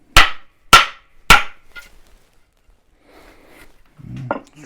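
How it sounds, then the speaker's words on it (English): Three sharp metal knocks of a hammer striking a Japanese-pattern splitting axe head, evenly spaced and loud, followed by quiet handling noise and a brief muffled thump near the end. "Knock it with a hammer."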